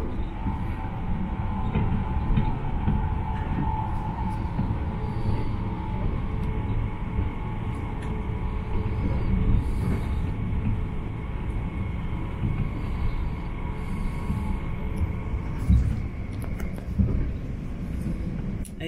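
Steady rumble and whir inside a moving train bound for Gatwick airport from London, a continuous broadband roar with a faint tonal hum and occasional rattles and bumps, close and even throughout with no talking.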